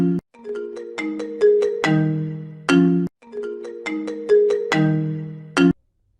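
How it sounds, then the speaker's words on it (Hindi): A phone alarm rings in two identical bursts of a bright, multi-note melodic ringtone, each about three seconds long, loud and close with nothing else behind it, before cutting off. "अरे ये तो किसी का फोन नहीं है, इसमें मैंने अलार्म लगा रखा है"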